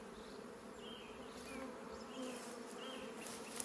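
Honey bees buzzing around an open hive during a transfer from a nuc, a steady droning hum with several nearer bees passing close, no voices.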